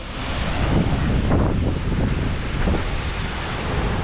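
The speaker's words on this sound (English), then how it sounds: "It's a massive 200-foot curtain of water that is impossible to approach without getting soaked." Skogafoss, a massive 200-foot waterfall in Iceland, pours as a steady, loud broadband roar of falling water with wind buffeting the microphone, continuous and close throughout.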